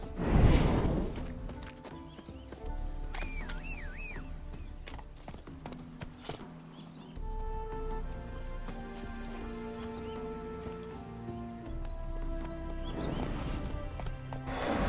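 Horse hooves clip-clop at a steady walking pace beneath music in The Witcher 3 video game, with an occasional whinny and whooshing movement and no talking.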